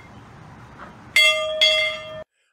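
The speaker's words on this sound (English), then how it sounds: "I begin the bell ringing" A single bell struck twice, each a bright, sustained metallic ring with shimmering overtones, loud and close, the second strike following about half a second after the first before both are cut off abruptly.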